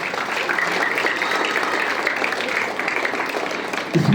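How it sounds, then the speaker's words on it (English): Applause at a school assembly, a steady rumble of many hands clapping from a crowd of students, somewhat muffled and even throughout, with a short low sound near the end. "Give me a big round of applause."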